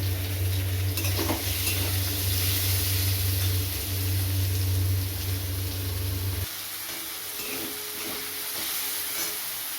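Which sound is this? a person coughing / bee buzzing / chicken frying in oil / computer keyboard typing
chicken frying in oil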